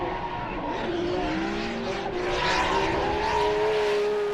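A high-revving JZ racing engine screams continuously at Winton Motor Raceway, Australia, its pitch climbing and wavering as the drift car slides, with tire noise mixed in.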